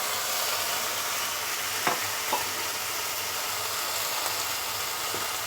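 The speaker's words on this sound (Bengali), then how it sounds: "এখন আমি এর মধ্যে টমেটো কুচানোটা দিয়ে দেব টমেটো কুচানোটা দিয়ে দিচ্ছি" Chopped tomatoes tipped into a hot pan of softened onions for a spicy prawn curry, giving a loud, steady sizzling hiss throughout with a few faint scrapes of stirring.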